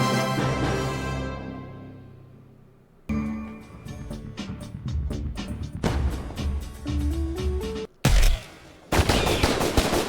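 Guns firing in the video game Blow It Up!, heard as loud, close bursts of rapid shots separated by short gaps and layered over game music.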